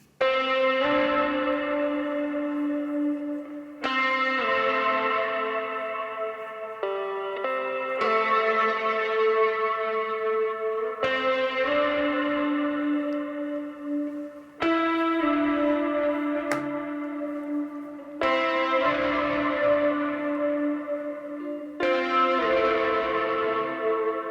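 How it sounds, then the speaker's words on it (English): Layered guitar chords ring out in repeated strums, each swelling and decaying with a bright, bell-like, echoing tone that spreads wide. "I decided to add another layer with guitar"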